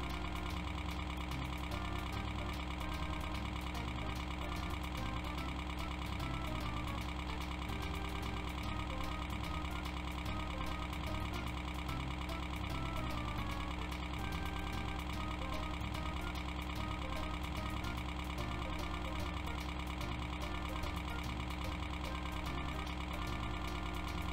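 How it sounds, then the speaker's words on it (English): A tractor plowing a field in the 1994 DOS computer game Richard Scarry's How Things Work in Busytown gives off a steady, unbroken synthesized engine drone that holds at the same loud level throughout, with no voices. "I'll climb aboard this tractor and then drive it across the field until it is all plowed."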